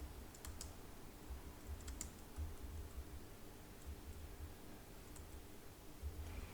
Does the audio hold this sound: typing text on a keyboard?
yes